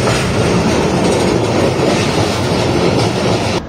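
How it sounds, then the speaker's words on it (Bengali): Sealdah Puri Duronto Express train running at speed, a loud, steady rumble with rattling wheels and carriage noise that continues without a break and with no voices. "আর ট্রেন কিন্তু বেশ সুন্দর টানছে"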